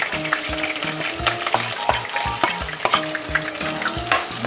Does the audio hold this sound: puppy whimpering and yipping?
no